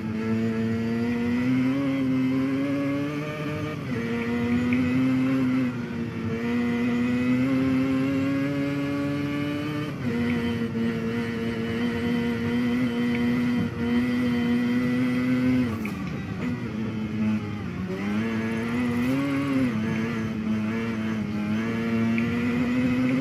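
Mazda RX-7 engine in a Forza racing game touge run: a steady, loud rotary drone holding pitch with brief dips and climbs as gears shift, continuous for the whole stretch without talk.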